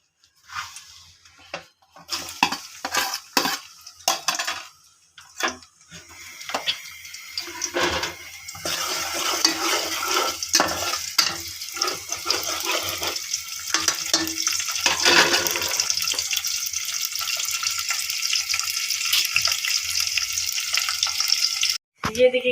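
Chopped onions drop into a bowl's worth of hot oil for Pakistani-style rajma masala, first with scattered clatters and splashes, then a loud, continuous frying sizzle that builds and holds steady, ending with a brief knock.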